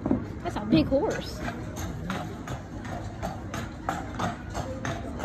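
A big horse's hooves clip-clop on the Ocean City boardwalk, a steady moderate trot heard nearby beneath crowd chatter and people talking.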